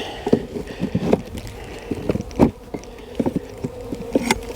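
Honey bees buzz in an opened beehive, a close, steady hum broken by scattered sharp knocks and clicks from the frames being handled, with no talking.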